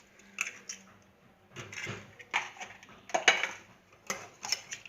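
Two eggs whisked into a bowl of quiche ingredients, giving irregular clinks and wet scraping strokes in short bursts, close and quiet with no voices.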